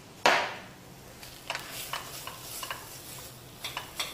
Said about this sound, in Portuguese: misturado o bacalhau com a batata e os outros ingredientes